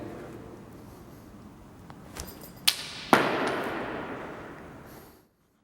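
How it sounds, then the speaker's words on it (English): A sharp, close crack like a rim shot on a drum, quickly followed by a second louder snare-like hit that rings out and fades over a couple of seconds, with steady low background noise. "a rim shot, followed by a snare."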